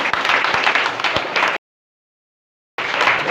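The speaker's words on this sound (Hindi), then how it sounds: "तो एक बार जोरदार तालियां होनी चाहिए।" Loud audience applause at a network marketing seminar, dense clapping filling the room, breaking off briefly into silence and then resuming.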